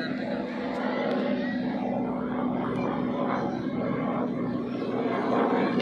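A steady helicopter drone hangs overhead near Haji Ali, Mumbai, by the sea, constant and fairly loud, with crowd chatter mixed in underneath.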